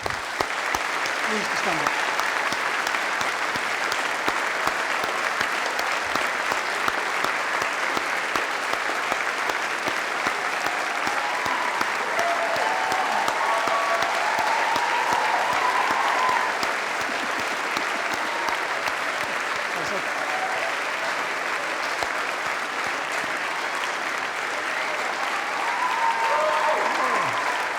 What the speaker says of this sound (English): I think we should give them a final round of applause